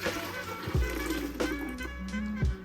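Strained Brazilian limeade poured back into a container: a close, continuous splashing trickle of liquid with a few gurgling surges, heard alone without talk.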